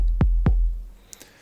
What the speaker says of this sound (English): And this is the kick synth.